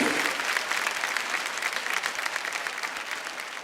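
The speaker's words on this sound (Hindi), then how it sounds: "एक बार जोरदार तालियां रजत जी के लिए बजाएं।" Loud, dense applause from a television studio audience at a talk show anniversary celebration, sustained clapping that fades slightly toward the end.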